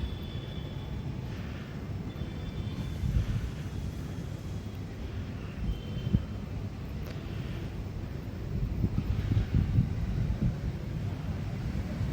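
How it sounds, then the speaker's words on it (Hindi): Steady wind blows outdoors, a continuous low rumbling roar with gusty swells that buffet the microphone throughout, with no other distinct sounds. "क्या बढ़िया हवा चल रही है।"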